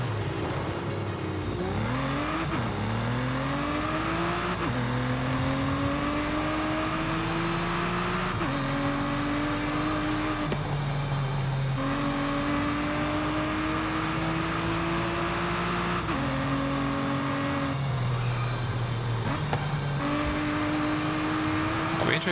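Aston Martin engine in Forza Horizon 5 revs repeatedly through rising gear pulls, with pitch climbing and dropping at each shift, loud and close throughout with faint tire noise.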